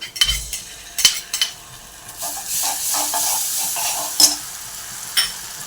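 Spiced masala with Schezwan chutney sizzling in a pan over a medium gas flame, a steady close frying hiss broken by a spoon stirring and scraping, with a few sharp clinks.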